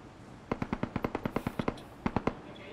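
Automatic gunfire in PUBG Lite, a rapid burst of about a dozen evenly spaced sharp shots followed by a short pause and three more quick shots, crisp and fairly close.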